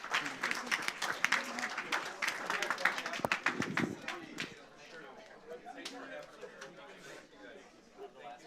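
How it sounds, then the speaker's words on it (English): Audience applause at a public school board meeting, a burst of clapping that thins into scattered claps toward the end, with voices murmuring underneath. "One last round of applause."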